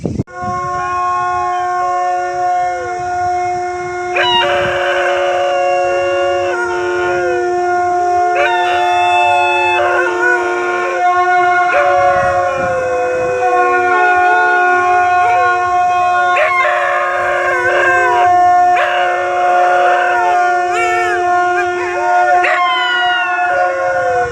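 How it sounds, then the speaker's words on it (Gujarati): Several dogs howl together in long, wavering, drawn-out tones that sound like a conch blown outdoors, the loud sustained cries rising and overlapping for over twenty seconds. "તો કૂતરા આવી ગયા છે તો ચાલો તમને કૂતરા બતાવી દઈએ કેવો શંખ વગાડે છે"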